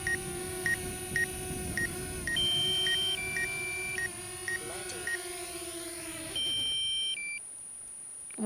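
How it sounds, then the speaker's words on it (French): A drone's low-battery alarm sounds as a series of short electronic beeps in repeating patterns, fairly quiet over a faint hum of motors that winds down partway through. "On a eu une alarme, une alerte batterie, quoi."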